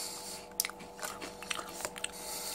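Crunchy almond and cranberry snack being chewed close to the mic, a short run of sharp bites and crackling crunches at an uneven pace, fairly quiet, with no talking.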